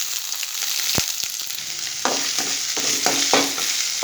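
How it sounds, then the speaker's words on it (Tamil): Ginger and garlic fry in a hot pan for a potato stir-fry, giving a steady close sizzle broken by several sharp stirring scrapes and clicks of a spoon against the pan. "கொஞ்சமாக இஞ்சி பூண்டு போட்டுக்கிறேன்"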